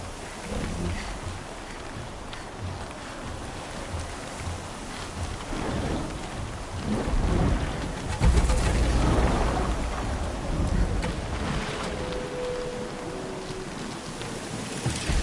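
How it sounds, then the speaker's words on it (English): Thunderstorm in the video game Horizon Zero Dawn: steady heavy rain hisses throughout while a deep rolling thunder rumble swells midway and lingers, loud and close, with no voices. "Gotta tough the storm out."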